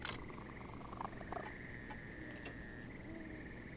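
Soft, continuous purring from a cat being petted in the game Penny Arcade Adventures, a low rumbling texture with faint ticking and tonal game sounds layered above it, no talking.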